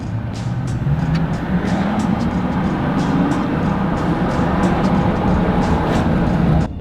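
A 2024 GMC truck engine running at a house, a steady mid-low rumble with a slowly rising note and sharp clicks and ticks scattered across the whole stretch.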